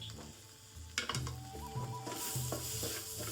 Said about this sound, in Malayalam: ആ മാറ്റി വെച്ച മസാലയും കൂടി എടുത്ത് കൂട്ടി ഇളക്കി പച്ച മണമൊക്കെ മാറണേ